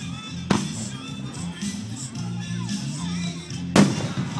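Fireworks display in Henderson, Kentucky: two sharp booming bursts, one early and one near the end, over a continuous crackling, rumbling backdrop of distant explosions and crowd murmur.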